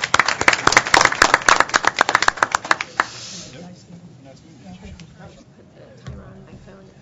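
Audience applause for panelists at the close of a panel session, several seconds of dense, lively clapping up close that fades out, followed by quieter room noise and talking.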